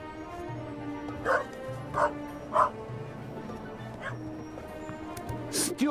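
A dog gives a few sharp barks and yips spaced about a second apart, close by, over a steady low hum and background murmur.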